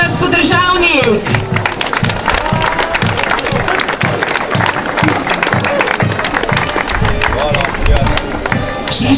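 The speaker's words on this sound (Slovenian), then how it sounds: "Dajmo še aplavz, Matija Medvešek." Sustained applause from an audience at the 2013 Slovenian national championship, steady and loud throughout with dense clapping, crowd noise and a voice or two over it.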